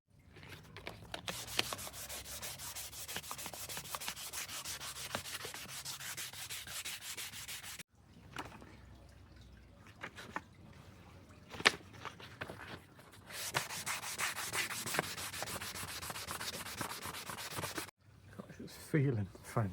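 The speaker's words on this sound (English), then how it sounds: "I'm going to start sanding it." Steady scratchy rubbing of sandpaper on a wooden axe handle, continuous in long strokes with a short pause midway, close up and fairly loud.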